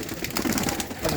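Large pigeons in a loft keep up a dense, close, continuous cooing with no voice over it, the low throaty calls overlapping throughout the brief moment.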